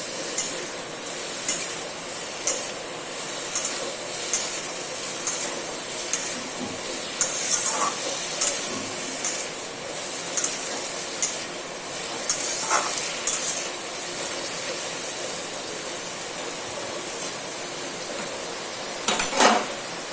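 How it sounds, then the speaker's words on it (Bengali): Ash gourd frying in a pan, a soft sizzle under rhythmic spatula stirring and scraping, with occasional sharper clinks of utensil on pan, no voices. "চাল কুমড়োটা আপনারা দু মিনিট খুব ভালো করে ভেজে নেবেন"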